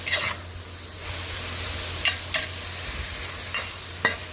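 Oroxylum (broken bones tree) pods stir-fried in a pan with a little oil, fish sauce and MSG give a steady close sizzle broken by a few sharp spatula scrapes, with no talking.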